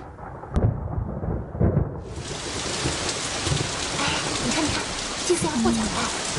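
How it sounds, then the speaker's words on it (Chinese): Steady rain sets in after a quiet opening with faint voices and low thunder rumbles, then falls as a dense, even hiss that stays close and continuous to the end. "又下雨了"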